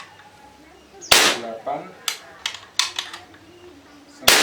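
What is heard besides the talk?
modified PCP air rifle shots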